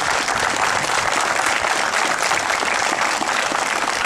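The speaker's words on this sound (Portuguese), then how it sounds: "uma salva de palmas para todos" A crowd at a motorcycle road group's fourth anniversary gathering gives dense, sustained applause that stays loud and even throughout.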